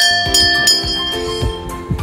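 A bright notification bell sound effect rings in quick successive chimes, each strike with a shimmering metallic tone, loud and alone.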